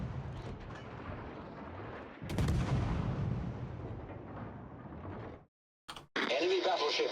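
The battleship Alaska fires its heavy guns in World of Warships, deep rumbling booms rolling under voices, with a sudden cut to silence and a sharp return of noise at the end.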